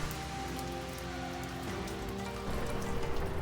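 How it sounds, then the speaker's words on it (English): Steady rain patters on surfaces outdoors, a dense continuous wash of droplets that grows slightly heavier near the end, with no voices. "just the pitter and the patter of droplets of rain"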